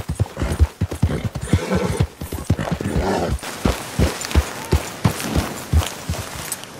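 Horse hooves clip-clop in Red Dead Redemption 2, a quick rhythmic run of close, crisp hoofbeats that continues steadily without pause.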